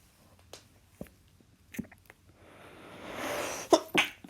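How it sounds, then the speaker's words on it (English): A single sneeze sounds close by in a quiet room, preceded by a few faint sniffs and small mouth sounds, then a sharp burst of breathy air and a quick catch of breath. "Oh, sorry, I've got the sneezes."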